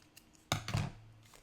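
A couple of quick, crisp snips from scissors trimming washi tape close by, otherwise quiet.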